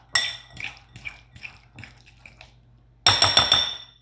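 A fork mixing ingredients in a bowl, giving a series of light, close clinks and scrapes at an uneven rhythm, followed by a louder burst of rapid clattering.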